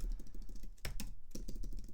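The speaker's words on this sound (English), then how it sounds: "as I'm typing this" Quiet keystrokes on a computer keyboard come in a light, uneven run of clicks with a few louder taps during a coding session, with faint background hum.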